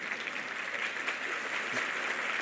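A church congregation breaks into steady, sustained applause, a dense wash of clapping that holds at an even level throughout without any voices rising above it.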